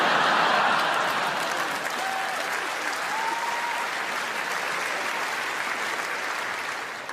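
Audience applause at a stand-up comedy show, a dense, steady clapping from a large crowd that holds loud throughout and tapers slightly at the end, with a faint chuckle or two mixed in.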